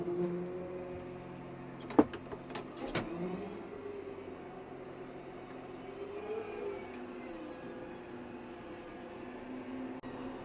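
A Case IH Magnum 380 tractor engine runs at a steady, low idle, a faint continuous hum with a couple of sharp clunks early on. No speech.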